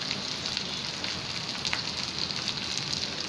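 Ground spices, turmeric and chili powder, hit hot oil in a frying pan for a fish curry with tomatoes, giving a steady, close, even sizzle that runs unbroken with no talking.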